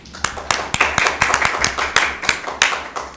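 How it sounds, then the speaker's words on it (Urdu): Steady applause from a studio audience, rapid clapping with sharp accents throughout, fairly close and loud. "آپ کی بھرپور تالیوں میں"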